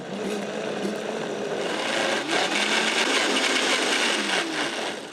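A blender blitzes a sweetened vanilla smoothie in one steady, loud whirring roar with a gritty, churning texture, running continuously for several seconds without talk.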